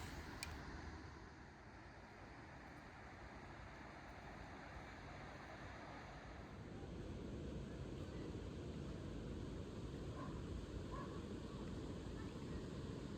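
A constant, full rushing roar of a fast-flowing river feeding a fjord in Skjolden, Norway, steady throughout and growing slightly louder partway, with no talking.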